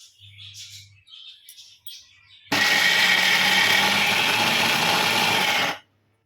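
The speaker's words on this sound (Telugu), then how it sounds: "ఇలా మిక్సీ పట్టేద్దాం." Small mixer grinder running a jar of soaked chana dal: a sudden loud, steady whirring roar for about three seconds that cuts off abruptly, preceded by faint bird chirps and light clicks.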